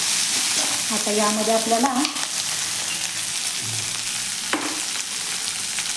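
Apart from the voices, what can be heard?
capsicum being stir-fried on high flame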